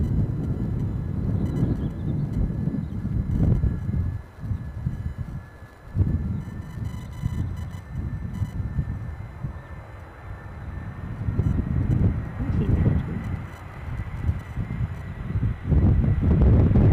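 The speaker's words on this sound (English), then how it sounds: "Ooh, found the wind." Gusty wind buffeting an outdoor microphone at Edinburgh Airport, a steady low rumble that swells and dips in several strong gusts, with a brief lull near the middle.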